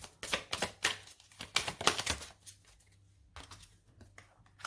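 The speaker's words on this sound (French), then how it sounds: "Je vais mettre une carte sur la tour pour voir." Playing cards being handled and placed onto a card pile during a tarot reading: a cluster of soft, close shuffling and tapping sounds over a few seconds, fading into quieter rustles, with no voices.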